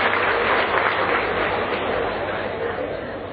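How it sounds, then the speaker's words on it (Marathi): An audience at a graduates' gathering breaks into loud, dense applause that holds steady and fades slightly over a few seconds, with a voice briefly present. "त्यांच्यासाठी जोरदार टाळ्या होऊ देत"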